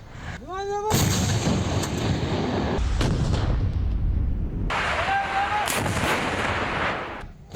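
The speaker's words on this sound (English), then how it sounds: "It shot anti-tank artillery shells at the wellhead to break it off and then attempted to seal it." Anti-tank artillery shells fired at a burning oil wellhead: loud, sustained roaring blasts and rumbling fire, with a rising whistle-like tone at the start and again midway, heard alone without talk.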